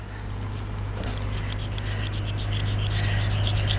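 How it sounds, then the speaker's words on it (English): A pocket knife blade scrapes sticky pine sap off Felco pruner blades, giving a steady rubbing rasp with a run of quick, repeated scraping strokes that speed up toward the end, close and fairly loud. "So I have my trusty pocket knife. I come along. I clean all that off."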